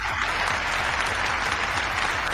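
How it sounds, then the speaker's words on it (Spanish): A burst of dense applause, used as a sound effect in a Spanish-language podcast, plays steadily and loudly like a large clapping crowd for a couple of seconds, with no voices over it. "Un buen chiste, entonces lo voy a aplaudir."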